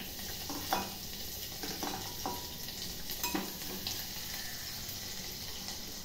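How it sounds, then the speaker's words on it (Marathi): Mustard seeds and cumin sizzle in hot oil with a steady, fairly loud hiss, broken by a few sharp pops and crackles from the seeds; no one speaks. "मोहरी टाकते, जिरं टाकते"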